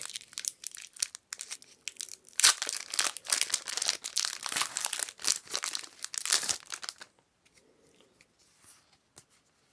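Foil wrapper of a Magic: The Gathering Kaladesh booster pack crinkling and tearing open up close, a dense burst of rustling and crackling for several seconds, then quiet with faint handling.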